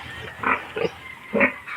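Pigs in a pen grunt and squeal in three short loud bursts, close by, with low shuffling and snuffling between them.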